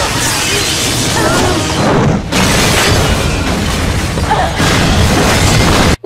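A loud, sustained explosion from the film Final Destination (2000), a dense roaring blast with crashing debris that fills the whole stretch, briefly dipping before surging again and cutting off abruptly at the end.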